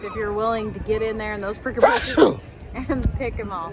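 A single sharp sneeze bursts out in the middle of someone talking outdoors near prickly blackberry bushes, loud and close, with speech before and after it.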